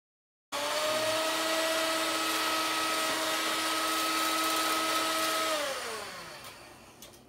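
Electric mixer whipping egg whites with salt and vanilla, a steady high whine that starts suddenly, runs evenly for about five seconds, then winds down in pitch as it slows.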